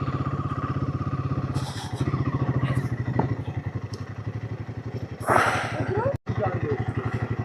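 A motorcycle engine runs steadily at idle as the bike is ridden into a parking area and parked, with a louder rev or clatter near the end and a brief cut-out, while someone talks over it.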